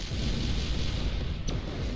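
A rumbling tank shot explosion from ShellShock Live, a loud sustained roar of blast noise with a sharp pop partway through.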